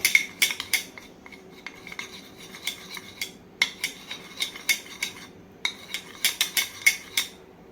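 A spoon stirs milk and cocoa for hot chocolate, clinking against the sides of the cup in a quick, irregular run of bright, close metallic taps with short pauses between bursts.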